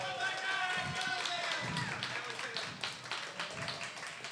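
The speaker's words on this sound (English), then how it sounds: "I wanted to give a moment to give a round of applause" A poetry slam crowd claps for two new board members: scattered, uneven hand claps from many people, moderately close, with a voice talking over the applause.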